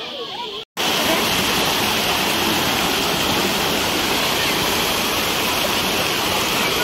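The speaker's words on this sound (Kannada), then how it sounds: "ನೋಡಿ, ಇದು ನದಿ ಬರ್ತಾ ಇದೆ." The Godavari river flows in a loud, continuous rushing roar of water, heard close and steady after a brief cut at the start.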